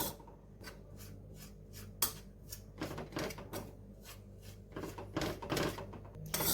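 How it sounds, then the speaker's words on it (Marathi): Wheat flour is stirred and roasted in ghee in a pan over a low flame, giving soft repeated scraping and rubbing strokes at close range, with a few sharper knocks. "सतत हलवत मंद गॅसवर ही कणिक आपल्याला भाजून घ्यायची"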